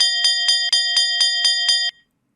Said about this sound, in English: And the bell works.